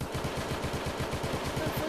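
Russian AK rifle firing at a shooting range: a steady run of rapid, evenly spaced shots that sound like fully automatic bursts, moderately close and continuous with no talk over them.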